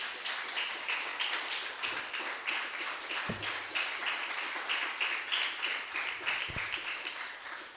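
A church congregation claps during a Spanish-language sermon, a fairly quiet, steady patter of hands with a few louder taps standing out.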